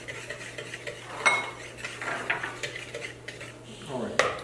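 Flour, baking soda and salt whisked together in a bowl for banana bread: quick clinking and scraping of a whisk against the bowl, moderately close, with a low steady hum behind and a sharp clink near the end.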